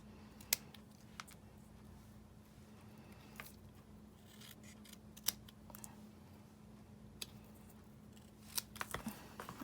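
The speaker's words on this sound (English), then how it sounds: "get my paper snips. I want to cut it down a little bit more." Paper snips cut paper while trimming a small stamped Halloween treat pouch, giving a few sharp, separate snips spread across quiet room tone, with a quick cluster of cuts near the end.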